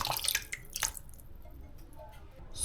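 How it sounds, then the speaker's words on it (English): Snails being washed in salt water give close, wet splashes and drips, with a few quick bursts of sloshing early on and then quieter trickling and dripping. "First, we wash the snails in salt water."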